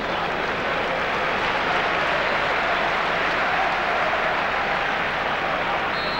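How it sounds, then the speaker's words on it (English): A football stadium crowd applauds a player during a 1992–93 Serie A match between Lazio and Inter, a dense, continuous roar of clapping and crowd noise that stays constant from start to finish. "Getting a round of applause from the crowd."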